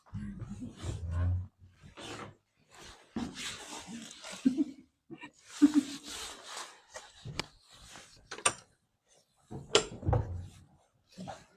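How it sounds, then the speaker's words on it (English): The great heavy entrance door of a castle creaks and groans as it is pushed open, giving long rough scraping roars in several bursts with knocks and thuds between them, heard close by. "Great big heavy door, this."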